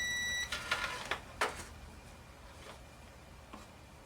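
An electrical continuity tester checking connections on an old machine, giving a short steady beep at the start followed by a few faint clicks and taps in a quiet room.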